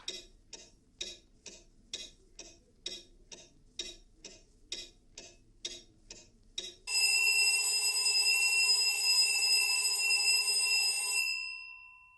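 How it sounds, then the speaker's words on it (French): A loud alarm clock ticks steadily about a dozen times, then breaks into a shrill, continuous ringing that lasts several seconds before cutting off, heard alone and up close. "Le réveil brutal qui sort le monde de son lit avec une sirène à vous vriller les tympans"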